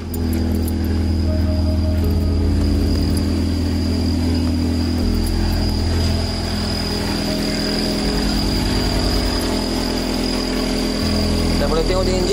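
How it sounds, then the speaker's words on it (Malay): A Toyota AE111 with a BlackTop engine, individual throttle bodies and a Link MonsoonX ECU idles steadily up close, a loud, even low rumble that holds throughout. "Boleh tengok di engine idle tu yang macam ni."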